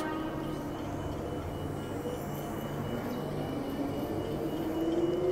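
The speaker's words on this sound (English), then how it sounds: "I'll send the train out first" A train departing on what sounds like a model or hobby railway layout, a steady broadband rumble with low hum that swells slightly toward the end.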